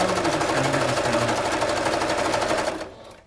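A sewing machine runs steadily and loudly, stitching along the edge of a cloth face mask, its rapid needle rhythm continuous for nearly three seconds before stopping abruptly near the end.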